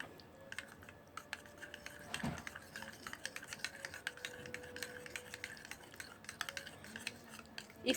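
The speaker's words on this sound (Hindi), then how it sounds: "और इन सब चीज़ों को मिक्स करेंगे।" A spoon stirs homemade hair mask ingredients in a small bowl, quick irregular clinks and scrapes, close and fairly faint, with no speech.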